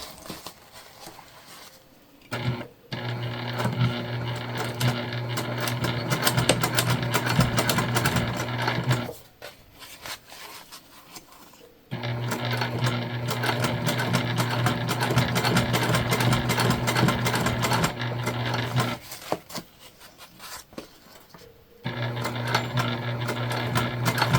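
Sewing machine topstitching about an eighth of an inch from the edge of a vinyl-panel zippered pouch, running in three long steady bursts separated by short pauses, close and loud with no talk.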